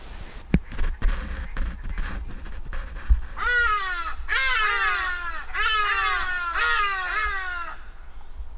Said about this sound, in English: the usual warning sounds were sent out to the wildlife in the area by the baboons and the birds